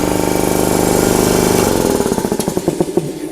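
A 7.5 horsepower air compressor runs loud and steady at close range, a dense mechanical drone that shifts after about two seconds into a choppier, pulsing beat as the motor cycles.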